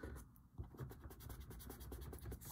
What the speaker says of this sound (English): I'm going to erase this inside